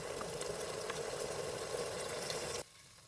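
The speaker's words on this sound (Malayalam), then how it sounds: "അപ്പം ഈ ചെമ്മീൻ നമ്മളതിലേക്ക് ഈ ചൂടായ എണ്ണയിലേക്ക് ഇട്ടിട്ടുണ്ട്. നന്നായി ഫ്രൈ ആയി എടുക്കണം." Prawns fry in hot oil with a steady, fairly faint hiss and crackle that carries on for a couple of seconds and then stops abruptly.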